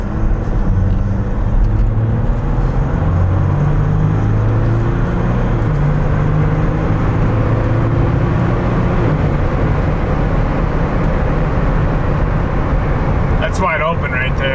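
A tuned Jeep Wrangler JL EcoDiesel accelerating at wide open throttle, a loud continuous low engine drone and road roar rising steadily in pitch, heard close from inside the vehicle.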